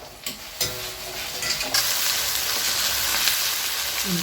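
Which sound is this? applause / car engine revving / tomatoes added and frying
tomatoes added and frying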